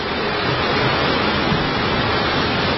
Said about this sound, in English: You can hear that rain happening